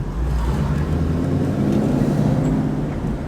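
Supercharged 850-horsepower Ford Mustang engine idling or running steadily while overheating, a loud, continuous low rumble close by with no pauses.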